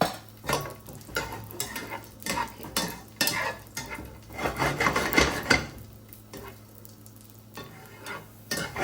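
Ingredients being roasted in a pan while stirred, giving repeated scraping and clinking strokes of a utensil against the pan over a soft sizzle, close and steady, with no talk.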